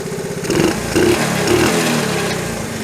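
Small single-cylinder engine of a Honda CT70 trail bike running at idle while the idle mixture is adjusted, a loud, close, steady putter with slight rises in speed.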